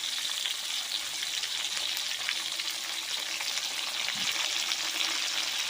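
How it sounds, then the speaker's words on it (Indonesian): Tomatoes frying over low heat in a pan of oil for sambal terasi, a continuous, even hiss of sizzling, close and moderately loud, with no voices. "Dan tomatnya juga digoreng sekalian."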